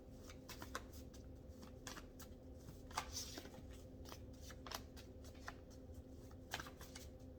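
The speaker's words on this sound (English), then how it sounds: "I'm going to shuffle my little heart out here for a moment" Tarot cards are shuffled steadily and close up, riffling and tapping in quick irregular bursts over a low constant hum.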